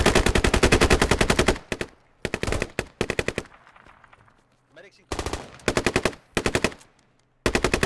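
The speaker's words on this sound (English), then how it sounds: "Oh, shots coming in through the gap, 60 degrees." Automatic rifle fire in the Squad military shooter crackles in rapid, loud bursts with brief quiet gaps between volleys, close and dominant throughout.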